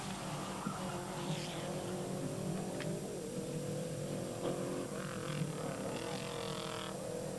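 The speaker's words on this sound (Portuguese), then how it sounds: "Aqui o vemos ao volante deste Lancia do Grupo A." Lancia Group A rally car on a 1990 Madeira rally stage, its engine a steady drone with shifting pitch, brief tire scrabbles and a background of crowd noise, no one talking.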